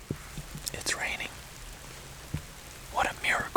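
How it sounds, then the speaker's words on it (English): Rain patters steadily in the forest on an overcast, cool day during fall bear season, a soft continuous hiss with scattered drops close by and a few brief rustles or movements mixed in. "It's raining."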